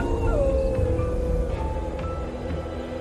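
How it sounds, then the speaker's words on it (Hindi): Dogs howl in a long, mournful, drawn-out chorus set in a dark horror scene, with wavering, overlapping cries over a dense, steady rumble of background sound. "कुत्ते रोने लगे।"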